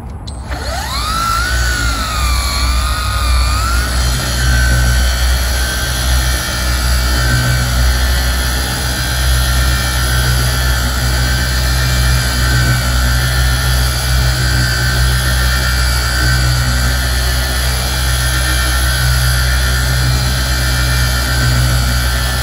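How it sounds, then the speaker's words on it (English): A car polisher works finishing polish into clear coat at a lower speed, producing a loud, steady motor whine with a constant hum that ramps up at the start and then holds without interruption. "I'm just polishing it to a high gloss."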